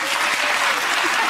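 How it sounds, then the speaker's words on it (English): Studio audience applauding at a topical comedy panel show, a steady, dense wash of clapping that stays loud and even throughout, with no voices over it. "audience clapping UKIP election results"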